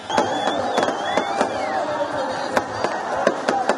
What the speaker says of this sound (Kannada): ಪಟಾಕಿ ಸಿಡಿಸಿ ಕುಣಿದು ಫ್ಯಾನ್ಸ್ ಕುಪ್ಪಳಿಸಿದ್ದಾರೆ